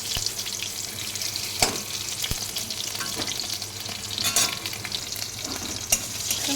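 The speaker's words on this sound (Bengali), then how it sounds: "আলুগুলো হালকা আগে ভেজে নেব" Potato pieces lightly frying in a pan for a pointed gourd and potato dish, with a steady close sizzle and occasional stirring clicks throughout, no voices.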